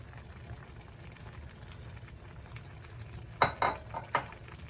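A metal lid set onto a cooking pot of simmering pampano paksiw with ampalaya, three quick close clinks of metal on metal over a low bubbling hum.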